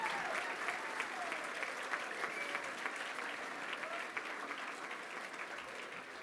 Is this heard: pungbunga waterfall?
no